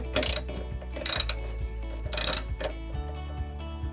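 Ratchet wrench with a 10mm socket turning bumper bolts on a GMC Sierra Denali pickup, heard as three short bursts of rapid clicking spaced about a second apart, close and fairly loud.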